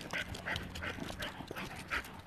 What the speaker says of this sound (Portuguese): Encontrou outro cachorro.